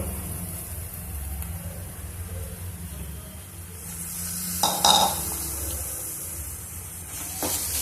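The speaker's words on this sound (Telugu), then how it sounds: "దీన్ని కూడా కొద్దిసేపు వేయించుకున్నాము అంతా బాగా వేగిపోయింది" Green chillies, onion, ginger and garlic frying in a pan for a bottle gourd and fresh coconut curry, a steady soft sizzle with a few louder hisses and stirring clatters near the middle and the end, with no talking.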